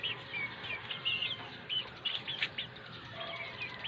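Chickens and quail kept in pens on a rooftop deck chirp and cheep in a busy, fairly faint chorus of short calls over steady outdoor background noise.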